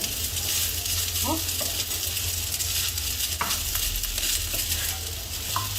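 Egg fried rice tossed and flattened in a wok over medium heat, a steady loud sizzle with occasional light scrapes and clicks of a spatula on the metal, close up and without talk.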